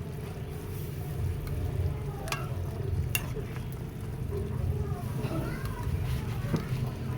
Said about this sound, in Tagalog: kulong-kulo na yung ating sabaw